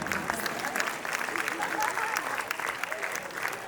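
A live audience claps for a keyboard player at a stage show, a steady burst of mid-sized applause with a voice talking over it.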